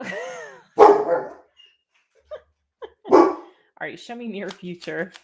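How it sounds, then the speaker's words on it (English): A dog barks indoors in a few sharp, close bursts, with whimpery yips in between. A person talks over and between the barks. "Can y'all hear this dog?"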